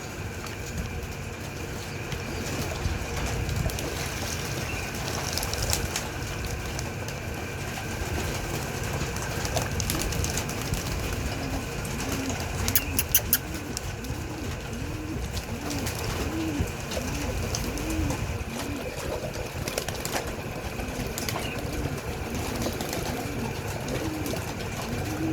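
Homing pigeons coo steadily while bathing, a soft repeating rumble of calls that carries through the whole stretch amid water splashing and faint background hum.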